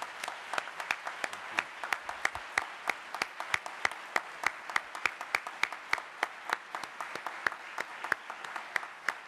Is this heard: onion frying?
no